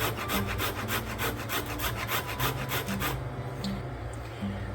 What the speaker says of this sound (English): So now, rasp nutmeg. I'm going to grind what I need.